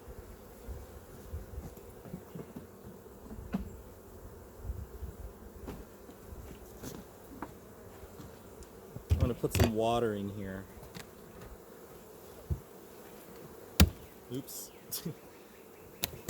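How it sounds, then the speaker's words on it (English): Honey bees buzz faintly around a beginner's beehive, a soft scattered hum under someone talking, with brief clicks and knocks from handling equipment and a short burst of louder activity midway. "Knocked down a bunch of bees."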